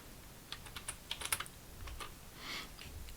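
Someone types a password quietly on a computer keyboard, with a short burst of soft, irregular key taps followed by a few scattered clicks and then a final cluster.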